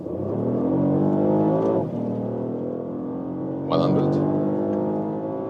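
A 2024 Porsche Panamera pulls hard up a motorway on-ramp, its engine note climbing loudly through two strong pulls with a brief dip between them as it shifts. Someone talks over the engine.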